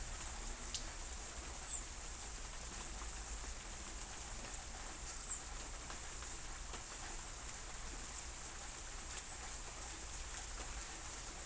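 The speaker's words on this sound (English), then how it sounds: "Here comes the rain. It's starting to come down harder now." Steady rain falling outdoors on a dreary day, a broad continuous hiss that holds even throughout with a few faint drip-like ticks, no voices.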